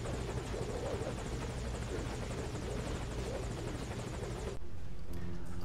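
Rescue helicopter in the video game Metal Gear Solid 5, a loud steady rotor thump and engine roar that cuts abruptly near the end, with no talking.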